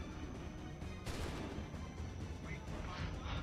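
Musket volley in Assassin's Creed III: a sharp burst of massed gunfire erupts after a second of rumbling battle noise, followed by dense, continuous crackling and booming, loud throughout, with shouted voices mixed in.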